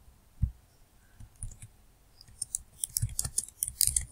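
Keys on a computer keyboard are tapped in scattered short clicks, sparse at first and then quicker and denser, close and fairly quiet with no speech.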